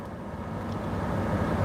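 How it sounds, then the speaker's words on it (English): A running room air conditioner, with chargers plugged in nearby, makes a steady broad whooshing hum that swells slightly and fills the room; there is no talking. "I know that there's a lot of background noise. I got the AC on."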